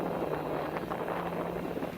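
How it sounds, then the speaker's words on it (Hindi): Strong wind at Kalam Lake in Pakistan's Swat Valley roars and buffets a nearby microphone without a break, giving a constant rushing rumble. "यहाँ पे हवा बहुत तेज़ चलती है"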